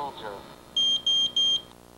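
MicroMax Pro gas detector sounding its danger alarm: three loud, evenly spaced high electronic beeps in a row, standing out over a quiet background.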